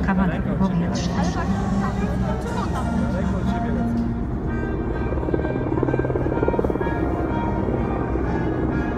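Four Mi-24 heavy attack helicopters of the Army Aviation brigade flying over a military parade in Warsaw, a loud continuous rotor thrum and engine roar, with a commentator speaking over it.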